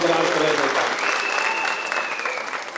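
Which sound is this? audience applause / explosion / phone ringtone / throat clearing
audience applause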